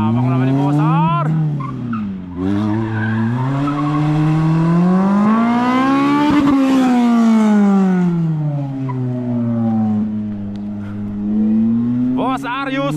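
Car driving a slalom course, its engine rising and falling through repeated revs while tires squeal in long, sweeping bursts, close and loud, with voices talking over it.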